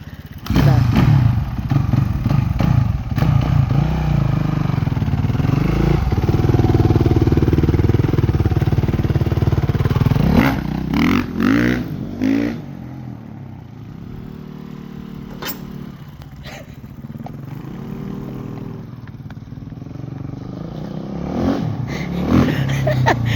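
A nearby Suzuki RMZ motorcycle with a sidecar revs hard and loud, then drops back to a rough idle, with brief voices and clattering mixed in.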